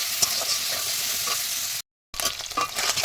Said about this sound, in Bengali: নেড়ে ছেড়ে মাছগুলি লাল লাল করে ভেজে নেব।